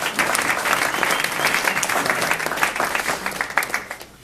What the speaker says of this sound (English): Everybody round of applause for Paul.